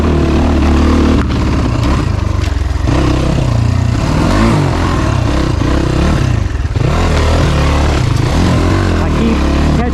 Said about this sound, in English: You guys can probably hear that it sounds like kind of like the bike's cutting out